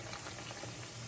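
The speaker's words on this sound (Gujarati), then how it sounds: "હવે આપણે પૂરી છે તે આપણે આમાં તળી લઈએ." Puris made with tomato frying in hot oil, a steady, quiet bubbling sizzle that runs evenly throughout with no voices.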